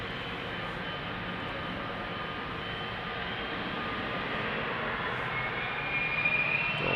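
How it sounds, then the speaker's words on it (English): A KLM Boeing 777-300 takes off from Amsterdam Schiphol bound for Johannesburg, its jet engines a steady, broad roar that holds level and swells slightly toward the end. "KLM 777-300 next to take off to Johannesburg, South Africa."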